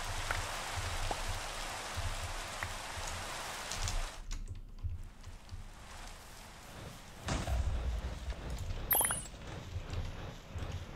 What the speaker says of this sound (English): Man, it is like always raining in my world anymore